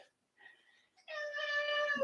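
A pet cat meows up close, with a short soft call followed by a longer, louder, clear meow, heard alone without talk.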